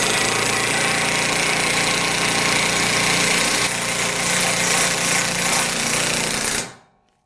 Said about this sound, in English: once it started impacting, it automatically slowed down the RPMs, and I was able to set the screw correctly